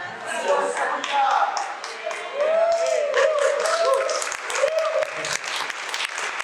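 Church congregation applauding in broad, sustained rounds of clapping that swell and ease, with a preacher's voice carrying over the applause throughout.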